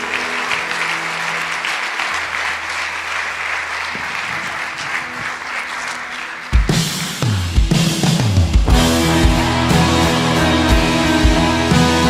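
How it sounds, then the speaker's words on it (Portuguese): Church congregation clapping in praise of the Lord, a dense sustained applause that swells after a quiet sung passage and continues loudly with music and voices mixed in. "Vamos aplaudir o Senhor e louvar ao Pai."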